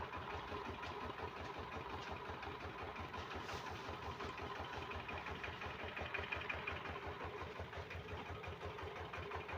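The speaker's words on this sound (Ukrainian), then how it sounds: "Наш генератор досі працює." A homemade generator built from a three-phase electric motor runs steadily on an evening during a power outage, a faint, even mechanical drone with a fast regular pulse that holds unchanged throughout.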